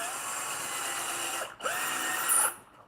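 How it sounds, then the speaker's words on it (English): Drill bit grinding through a hole in a roller skate with a power drill: a loud sustained whine that drops out briefly midway, then resumes and rises in pitch before stopping, heard close with no voices. "trying to get this drill bit through the hole"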